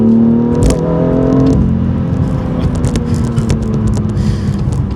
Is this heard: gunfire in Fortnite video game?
no